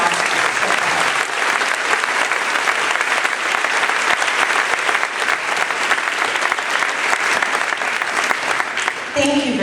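An audience at a middle school fall band concert claps steadily and warmly, a dense sustained wash of applause filling the room from start to finish.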